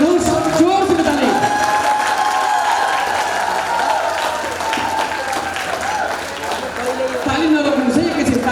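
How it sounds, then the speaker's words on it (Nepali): A festival audience at a Nepali cultural event in Sonipat applauds loudly as the chief guest is called forward, sustained clapping and crowd noise with cheers and an amplified voice talking over it. "जोरसँग ताली बजाइदिनुहोस्, जोरसँग ताली।"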